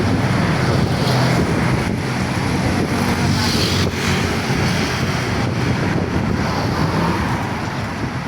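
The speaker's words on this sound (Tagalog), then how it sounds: "Ay, lakas ng hangin." Strong wind roars continuously and loudly, buffeting the microphone with a dense rumbling rush that barely lets up.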